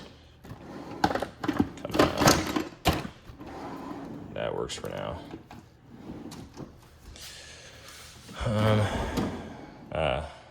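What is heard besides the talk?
closing a tool chest drawer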